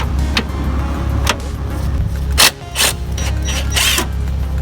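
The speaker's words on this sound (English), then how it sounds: "now we're going to undo the 17 millimeter bolt that holds the tie rod in with a gun" An impact gun undoes the 17 mm bolt holding the tie rod on a Honda Civic EK steering rack, firing several sharp, loud rattling bursts of a second or less, spaced apart over a steady workshop hum.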